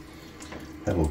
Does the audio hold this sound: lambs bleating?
no